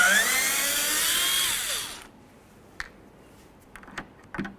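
Power screwdriver with a T25 Torx bit spinning out headlight housing screws on a 2008-2012 Jeep Liberty, one loud continuous whir for about two seconds, then quiet with a few faint clicks and taps.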